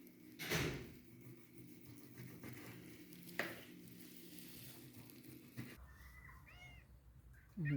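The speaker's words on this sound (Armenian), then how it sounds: "Փիսիկներն էլ շարվել են, մեկի տեղը 2 հատ, 3 հատ փիսիկ" Faint meows from a couple of cats close by, over a low background hum and soft clatter, with a few brief knocks.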